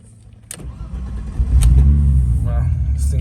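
A BMW 325i engine cranks and fires up, a short starter whir followed by the engine catching and settling into a smooth, fairly quiet idle, heard close with a few clicks and a brief voice.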